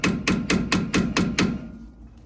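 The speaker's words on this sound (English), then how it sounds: "I'm gonna use my universal hammer." A universal hammer gives a wheel hub dust cover about seven quick, sharp metallic taps in an even rhythm, loud and close, then the sound fades to quiet.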